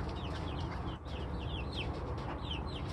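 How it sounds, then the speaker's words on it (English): Chickens cluck and chirp softly while exploring a new coop, with short, frequent calls scattered throughout over a faint, steady background hum. "The chickens are very curious. They're out there already. They're looking around,"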